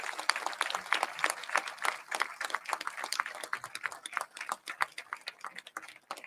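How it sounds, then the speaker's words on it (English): A crowd at a community gathering against antisemitism claps for local Jewish organizations, sharp individual handclaps close to the microphone that form an uneven, lively rhythm and carry on steadily throughout. "Let's give all those Jewish organizations a round of applause."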